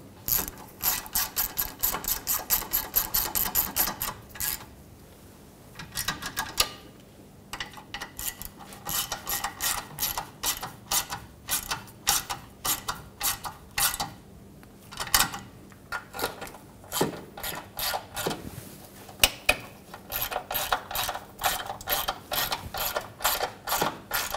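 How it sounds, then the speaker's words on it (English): A ratchet snugs down the bolts on a rear ABS sensor of a 2003-2008 Honda Pilot. Close, rapid clicking comes in repeated bursts, with brief pauses between strokes. "Snug down the bolts."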